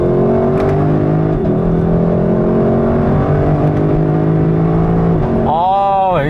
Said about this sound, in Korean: 지금과 같이 5000rpm을 향해서 달리고 있다가도 다시 변속기를 패들 시프트를 사용해서 내리면 이 다운 시프트 할 때 느끼는 사운드도 기가 막힙니다.